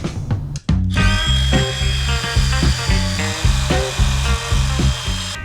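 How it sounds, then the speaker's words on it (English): Power drill with a small wire wheel scrubbing paint off Mazda Miata rear suspension bushing sleeves, a close, loud whine that rises and dips as the bristles bite the metal, running steadily without talk. "I'm going to attack them a little bit with a little wire wheel, get them all nice and clean and smooth"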